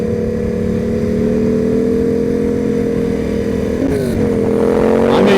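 A Yamaha FZ07 motorcycle engine runs loud and close at a steady high rev, its tone dipping briefly near the end before climbing again.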